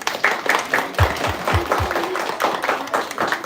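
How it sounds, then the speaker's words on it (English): An audience at a children's public speaking competition claps for a speaker, a short burst of mixed clapping, moderately close, with low murmuring voices underneath. "let's get a huge round of applause for Karthi"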